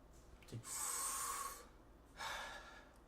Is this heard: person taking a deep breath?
yes